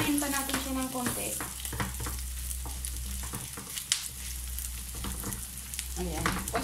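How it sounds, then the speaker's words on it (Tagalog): Meat browns in cooking oil as the first step of sautéed mung beans, giving a steady close sizzle and crackle with occasional stirring scrapes and utensil taps. "Mas masarap guys yung ma-brown-brown yung meat bago mo i-sasahog sa munggo"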